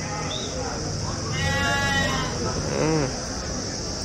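Large rams bleat at a busy Bakrid livestock market, two or three drawn-out wavering calls close by, over constant crowd murmur and people talking.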